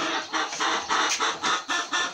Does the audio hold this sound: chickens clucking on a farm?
yes